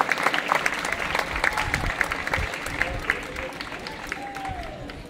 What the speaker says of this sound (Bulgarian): аплодисменти за трите екипажа, които направиха подиума